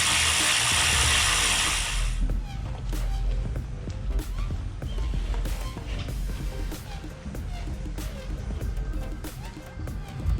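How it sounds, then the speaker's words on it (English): A ratchet tightens lower sway bar bolts on a 2013-2017 Subaru Crosstrek during a lift kit install, with rapid continuous clicking close by after a brief burst of loud hiss at the start. "We're gonna go ahead and tighten down these 3 bolts."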